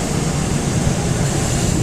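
A steady, dense roar of a Weishaupt oil burner running, broadband and constant with a strong low rumble, no pauses or voices.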